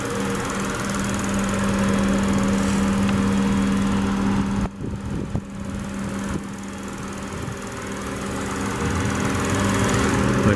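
A 2012 Lexus IS250c's 2.5 liter V6 idles smoothly and steadily close by, a constant even hum with a brief dip in the middle before settling back to the same drone.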